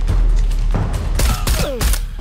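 Pistol gunshots in the video game Shadow of the Tomb Raider ring out as several sharp, loud cracks in quick succession over a rumbling game soundtrack, with a couple of whooshing effects between them.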